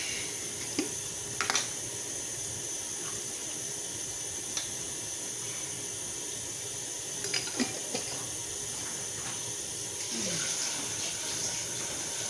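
Tap water runs steadily into a kitchen sink or pot, a faint, even hiss of filling water with a few small clinks and knocks around it.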